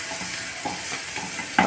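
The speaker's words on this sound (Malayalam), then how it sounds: "കടുക് പൊട്ടി വരുമ്പോൾ ചെറിയ ഉള്ളി" Small onions sauté in hot coconut oil with crackling mustard seeds, a steady close sizzle with light stirring scrapes throughout, a louder burst of frying at the end, and no voices.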